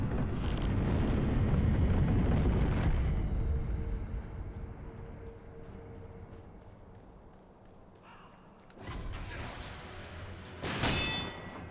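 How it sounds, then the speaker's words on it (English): Sword parries against bullets in the video game Sekiro, sharp metallic clangs ringing out in a quick burst near the end after a rumbling stretch and a quieter lull. "Wait, did I just parry bullets?"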